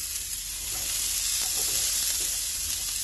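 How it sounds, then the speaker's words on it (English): Chunky potatoes dropped into a pan with browned garlic and translucent onions, giving a steady, fairly loud hissing sizzle that holds evenly with no talk. "my garlic's getting a little bit brown and my onions are translucent, so I'm going to add my potatoes"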